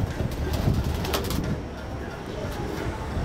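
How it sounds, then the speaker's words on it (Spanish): Pigeons coo softly at a racing-pigeon loft, their low murmuring calls blending into a busy background with faint talk and occasional wing flutters. "Vamos a bajar las palomas."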